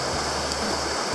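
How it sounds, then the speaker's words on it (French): A strong, fast river at a crossing on the Te Araroa trail near Greenstone Hut rushes in a dense, steady roar close by, with no break and nothing over it. "il y a vachement d'eau, il y a vachement de courant."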